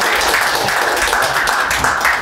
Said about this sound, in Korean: 저한테 박수 주십시오